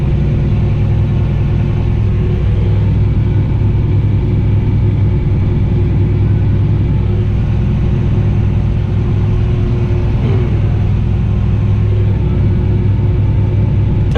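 Fendt 1050 tractor engine heard from inside the cab while working down organic mustard, a deep steady droning rumble with low tonal hum, constant and loud throughout with no talk.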